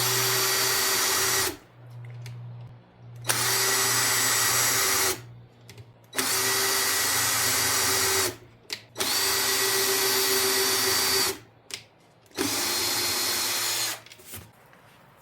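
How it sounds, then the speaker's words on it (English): A power drill drills holes in plastic for a Power Wheels ride-on, whirring in several bursts of a second or two each, with short quiet gaps between, loud and close. "Now that I have the drill bit affixed, I'm gonna drill the holes."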